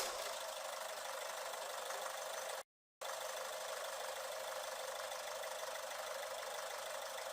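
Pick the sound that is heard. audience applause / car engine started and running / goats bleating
car engine started and running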